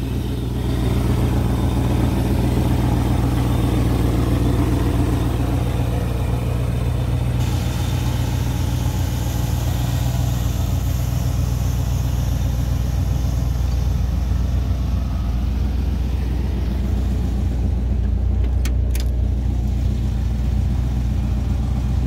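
A 1966 Ford Ranchero with a 289 V8, C4 transmission, 750 Edelbrock carburetor and electric fans idles steadily, a loud, continuous low rumble that holds throughout with no talking.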